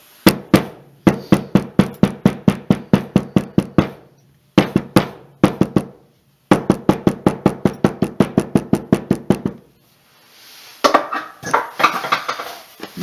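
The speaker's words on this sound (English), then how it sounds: "I'm going to take my hammer, my mallet, my cobbler's hammer, because I want a good solid hit" Repeated solid blows of a cobbler's hammer on a glued leather card holder, sharp knocks in fast steady runs broken by short pauses, close and loud with no talk, then a softer rustle near the end.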